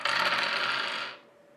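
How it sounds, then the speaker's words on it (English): Dice rolled onto a surface give a short, dense clatter lasting about a second before settling into quiet, with no voices. "Now for number 3, let's roll the dice."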